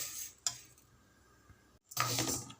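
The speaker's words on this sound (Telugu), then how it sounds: "కొద్దిగా కలర్ చేంజ్ అయ్యి పండు పండు అయ్యే వరకు వేపుకోవాలి" Moong dal dry roasting in a pan, quiet scraping and stirring with a couple of louder sweeps of the spoon against the pan, otherwise soft and close.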